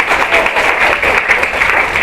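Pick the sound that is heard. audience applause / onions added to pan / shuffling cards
audience applause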